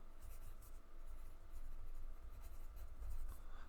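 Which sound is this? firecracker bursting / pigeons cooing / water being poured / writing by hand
writing by hand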